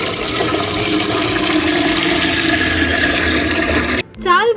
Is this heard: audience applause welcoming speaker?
no